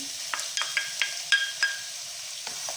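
Chopped onion sizzles softly in oil in a pot while a utensil scrapes and taps in a few quick strokes.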